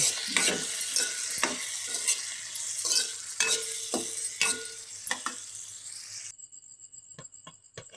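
A spoon stirring beans in a pan, repeated scraping strokes over a light sizzle, fairly close. The stirring stops near the end and faint insect chirps carry on.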